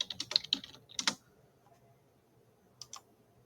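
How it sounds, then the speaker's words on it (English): Quick clicks on a computer keyboard while typing comments, a close, light flurry of keystrokes followed by a pause and a couple more taps. "I can also type in comments here."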